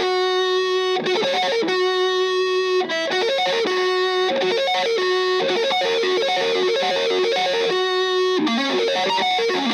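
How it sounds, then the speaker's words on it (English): Electric guitar played with a distortion effect, running quick fingerstyle sweep-picked arpeggios in a steady, continuous pattern with brief pauses between phrases, loud and close with no talking. "let's switch the distortion on and see what it sounds like that"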